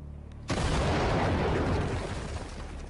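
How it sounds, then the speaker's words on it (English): A single massive blast from a replica ancient cannon fired in a quarry erupts after a quiet moment, its deep roar rolling on and slowly fading over the next few seconds. "The cannon blasts with unbelievable power."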